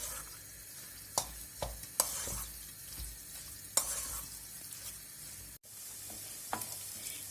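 Minced meat mixed with egg white for meatballs, with soft wet stirring and a few sharp knocks of a utensil against the bowl, quiet and close.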